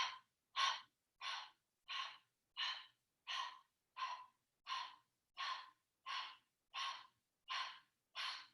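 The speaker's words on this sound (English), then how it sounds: "Now let's see if you can add in breath of fire." Rapid breath of fire during a core workout: a steady series of about thirteen sharp, evenly spaced forceful exhales through the nose, close and clear, with no talking.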